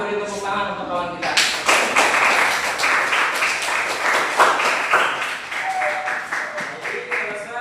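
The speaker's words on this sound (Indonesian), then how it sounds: "Silakan beri tepuk tangan untuk kawan kita." Students applaud a classmate's group presentation in an Islamic jurisprudence class, loud, close clapping from a small room that starts after a brief voice and carries on with tapping and voices mixed in.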